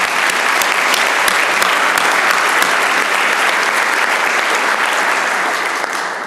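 Sustained, loud applause from a large audience at the State of the Florida Bar address fills the space, a dense steady roar of clapping that holds level and begins to ease toward the end.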